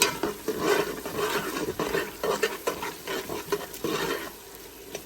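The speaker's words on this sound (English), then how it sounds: "Give that a good stir" A spoon stirring shrimp creole in a pot, scraping and clinking in repeated strokes against the metal with a soft sizzle underneath, close and fairly clear.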